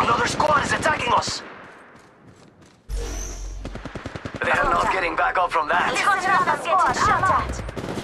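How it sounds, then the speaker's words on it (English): Gunfire in the mobile battle royale game Apex Legends Mobile erupts suddenly after a quiet moment, with rapid, dense bursts that continue under close, excited talking. "Alright, they're shooting at me."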